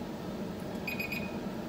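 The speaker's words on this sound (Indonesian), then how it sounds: "Alarm saya sudah bunyi 20 menit." A kitchen timer goes off while cheese nastar bake in the oven: a quick run of three faint electronic beeps over a steady low room hum.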